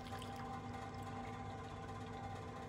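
Water poured into a pot of Madras-style prawn biryani, a steady continuous gush holding at an even level for the whole stretch with no voices.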